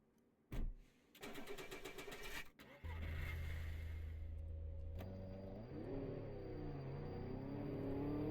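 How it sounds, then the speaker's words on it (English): A small car in the survival game DayZ starts with a sharp crank, then its engine idles and revs with a steady, close hum that rises and falls as it pulls away, quiet overall. "Let's get our little car out."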